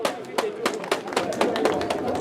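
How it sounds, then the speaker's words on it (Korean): Scattered claps from a rally crowd at a protest gathering, sharp and uneven, rising over a steady background of voices and murmuring. "마지막 박수 한번 쳐요"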